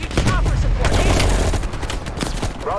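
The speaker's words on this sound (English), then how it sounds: "you followed the road right toward the sound of gunfire" Dense gunfire in a Cold War era video game firefight, rapid overlapping rifle shots and bursts, loud and close, with whistling sounds near the start and end.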